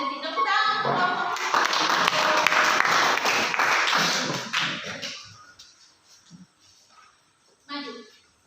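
Students in a classroom applaud a group, clapping loudly for about four seconds and then fading into scattered taps, shuffling and children's voices.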